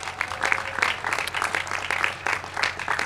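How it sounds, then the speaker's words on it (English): Audience applause at a high school graduation ceremony, steady and dense clapping from a large crowd sustained throughout at moderate level. "Round of applause for them, please."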